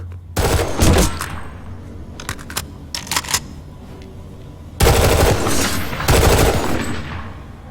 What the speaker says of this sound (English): Try shooting some targets using hip fire.